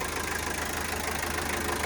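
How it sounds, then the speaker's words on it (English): A 1975 Toyota Land Cruiser BJ40 with its B engine idles in a steady, even rumble, holding a constant level for the whole stretch with no voices. "Sounds like a B engine should."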